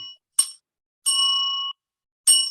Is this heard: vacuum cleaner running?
no